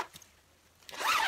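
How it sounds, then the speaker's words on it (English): A zipper on a homemade baseball cap face shield is handled, with a faint brief rasp early on, then a loud close zip sliding open in the last moments, alone without talk. "so there's the zipper"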